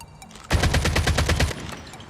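Rapid burst of automatic gunfire in COD Mobile, triggered by a fire, reload and jump macro: about a second of loud, evenly spaced shots, then quiet game ambience.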